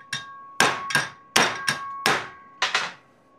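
Metal hammer blows shaping a curved domed piece in a craft workshop, seven ringing clangs in irregular pairs with bright sustained metallic tones fading between strikes, close and loud without talking.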